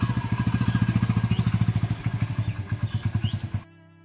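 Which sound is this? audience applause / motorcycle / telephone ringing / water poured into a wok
motorcycle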